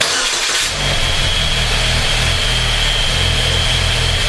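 A 2004 Chevy Cavalier with a swapped engine and no muffler fires up with a brief crank, then settles into a loud, raw, steady idle close by, with no talk over it.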